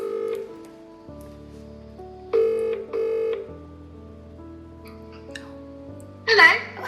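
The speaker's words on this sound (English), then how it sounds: "Let's see if she answers the phone to me" A phone call is placed late at night: steady dialing and ringback tones hum through the line in repeated tone blocks, with a brief burst of sound near the end as the call connects.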